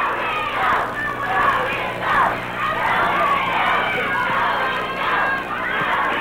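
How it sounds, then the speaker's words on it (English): A crowd at a 1979 Memphis wrestling match between Jerry Lawler and Ricky Morton hollers and cheers in a steady, swelling roar of mixed voices, with no single voice standing out. "Crowd hollering, go, Rick,"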